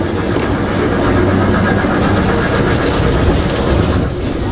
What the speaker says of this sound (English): The tram has caught up with me and is now about to drive past.